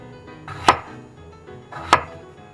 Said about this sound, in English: cut into fairly large chunks